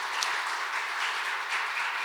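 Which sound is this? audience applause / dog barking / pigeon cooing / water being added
audience applause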